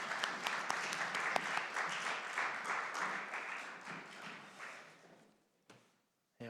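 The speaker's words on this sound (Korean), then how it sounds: "우리 하나님께 영광의 박수 올려드리겠습니다." A congregation at a Sunday morning service in an air force base church breaks into loud, dense clapping that holds steady for several seconds, then fades and stops, leaving near silence with a final tap.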